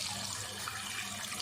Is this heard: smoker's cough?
no